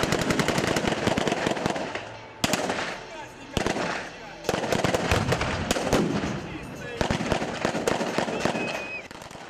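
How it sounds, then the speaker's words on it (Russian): Bursts of rapid gunfire and loud blasts fill a paratroopers' day military show in Barnaul, with dense volleys in several waves and brief pauses between them. "раздавались взрывы, гремели выстрелы"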